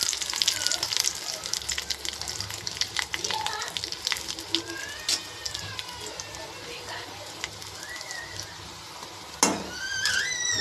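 Red chili powder and curry leaves fry in hot oil for a simple dal, giving a close, crackling sizzle with spits and pops, a stirring spoon and a sharp burst near the end, while someone talks over it.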